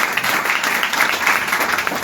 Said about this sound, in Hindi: सर के लिए एक बार जोरदार तालियों से स्वागत किया जाए